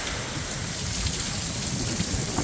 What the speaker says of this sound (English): That, folks, is an Arizona thunderstorm.